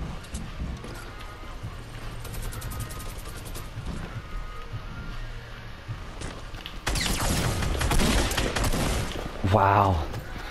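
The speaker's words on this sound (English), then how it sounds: "Shotgun battle, shotgun battle." Shotgun blasts crack out in a Fortnite battle, with scattered sharp reports under faint game noise, then a denser burst of rapid gunfire near the end, and no talk over it.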